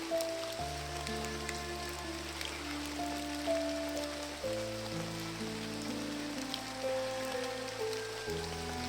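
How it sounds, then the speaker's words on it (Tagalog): Heavy, unceasing rain falls as a dense, even hiss throughout, with music playing over it. "Grabe itong ulan na to, bay. Parang walang tigil ba?"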